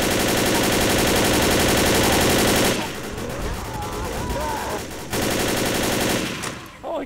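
Rapid automatic gunfire aimed at the Tank in Left 4 Dead: dense, continuous rattling bursts, loud and close, break off midway into rumbling game noise with faint voices, then resume briefly before stopping.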